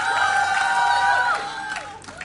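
An esports crowd at a live match cheers and whoops loudly with sustained shouting, then the roar tapers off toward the end.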